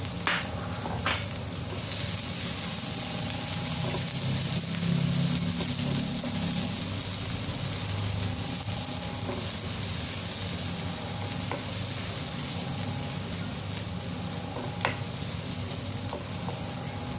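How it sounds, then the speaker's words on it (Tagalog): Garlic, shallot and onion sizzle and fry steadily in a hot pan for rice stick noodles, a continuous close crackling hiss with occasional stirring clinks and no talk. "So let's saute the garlic and shallot first."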